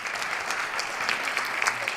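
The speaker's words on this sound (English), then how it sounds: "Let's give her a round of applause." Applause from a crowd at a state legislative session, a dense, steady patter of many hands clapping for a couple of seconds at moderate level, without talk.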